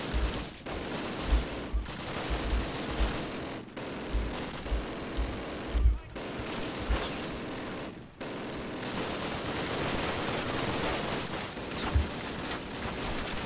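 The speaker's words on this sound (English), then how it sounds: "Who's shooting at me?" Rapid bursts of automatic gunfire from the Call of Duty campaign rattle continuously for the whole stretch, with repeated loud volleys and short pauses between strings of shots, no talking over them.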